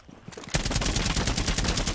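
Rapid automatic gunfire in Rainbow Six Siege, shots punching through a wall, bursting in loud and continuous after a quieter half-second lead-in, a steady fast rattle of closely spaced rounds.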